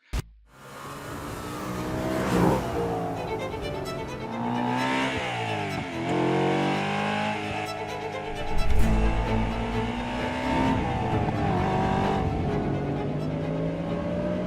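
A 2007 Audi RS4, 2008 BMW M3 and 2014 Mercedes C63 rev hard and repeatedly, pitch climbing and dropping through gear changes, loud and close with a deep throaty roar and no talking.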